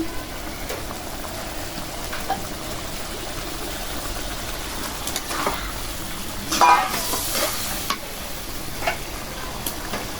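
Masala spices frying in a pan with red lentils stirred in, cooked in a village kitchen, give a steady close sizzle with soft stirring scrapes and a brief louder burst midway.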